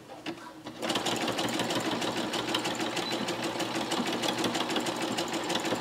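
A sewing machine runs a zigzag stitch to fasten a hanger loop and a folded-over fabric edge on a homemade Christmas stocking. After a brief quiet start the motor starts up and whirs steadily and close with a rapid, even needle rhythm.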